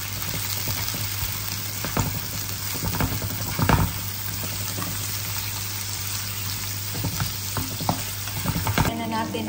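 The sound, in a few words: stirring garlic and onion frying in a pan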